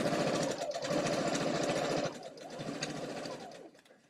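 A sewing machine runs steadily with a dense mechanical whir, briefly easing and restarting midway, close and loud with no talk over it.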